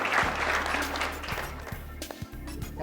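Applause from an audience at a fashion show in Reno, greeting the models as a steady, dense wash of clapping with a low hum beneath and a few sharper thumps near the end.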